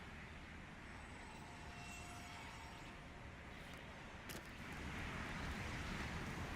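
A LEGO Fortnite streetcar runs along its track in the video game, a soft steady rolling rumble with faint rail noise that grows slightly louder toward the end, no talking.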